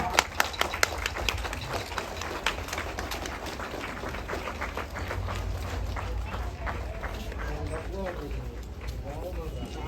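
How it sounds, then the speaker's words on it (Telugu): An audience at a church shrine inauguration claps together, giving a dense run of rapid claps that eases into a steadier patter, with voices mixed in. "అందరూ గట్టిగా చప్పట్లు కొడదాం"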